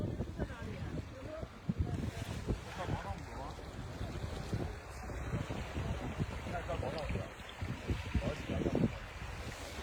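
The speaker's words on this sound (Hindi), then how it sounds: "क्या आप पानी की आवाज सुन सकते हैं" Water laps at the shore of Yamdrok Lake in Tibet, with gusty wind buffeting the microphone and irregular splashes, while voices talk faintly in the background.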